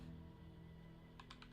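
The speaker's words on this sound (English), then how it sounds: "typing sound" A short burst of three or four quick keystrokes on a computer keyboard comes near the end, close and crisp, over a steady low electrical hum.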